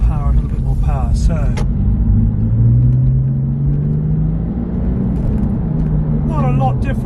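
Porsche 996 fitted with a Fabspeed Max Flow exhaust accelerates out of a corner, a low, steady engine rumble rising gradually in pitch, with someone talking at the start and again near the end.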